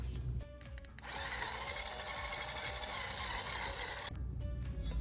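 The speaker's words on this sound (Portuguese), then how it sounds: "Então, eu vou usar essa minha batedeira portátil, tá? Para poder estar batendo" A portable electric hand mixer beating vegan, gluten-free cookie dough, whirring loud and steady for about three seconds after a brief start, then cutting off, with no talking.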